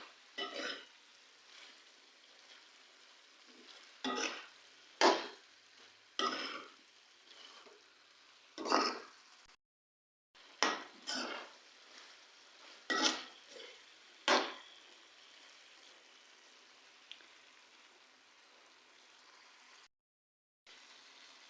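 Spatula stirring aloo gobi salan with black pepper and cumin in a pan, sharp scraping strokes in irregular bursts separated by quiet gaps, close and fairly loud, no talk.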